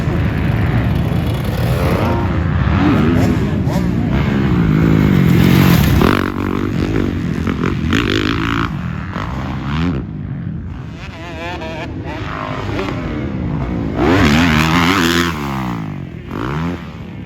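A Kawasaki motocross motorcycle fitted with Showa Pro forks roars continuously through a test ride, the engine revving and surging, with clattering and scraping mixed in throughout.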